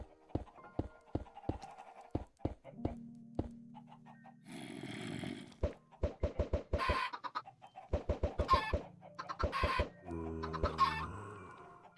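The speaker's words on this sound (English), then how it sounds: "a trapdoor and some imprisoned critters, specifically chickens, because they're really easy to imprison" Chickens imprisoned under a trapdoor in the game Harmonious cluck in quick repeated bursts, with a rooster-like crow and a longer drawn call mixed in, close and clear against a quiet background.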